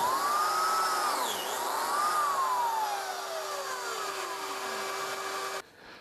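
A biscuit joiner whines loudly during a plunge cut, its motor pitch rising and falling over a droning shop vacuum, then cuts off abruptly near the end.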